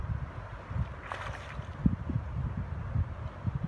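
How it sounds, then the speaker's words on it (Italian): Wind gusts blowing outdoors beside a river while fishing for chub and barbel, a steady low rumble with buffeting bursts close to the microphone, continuous for a few seconds with no talk. "C'è un po' di vento oggi"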